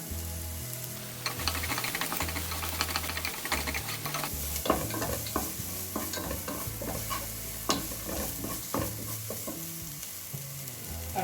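Ginger garlic paste sizzles in a hot pan over softened onions while it is stirred, a steady frying hiss broken by frequent scraping stir strokes, close and alone.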